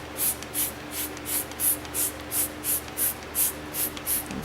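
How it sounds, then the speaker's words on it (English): Twelve quick hissing spritzes from a spray bottle of cleaner onto a toilet in a steady, even rhythm, close and crisp over a faint hum. "Spray some more, why not?"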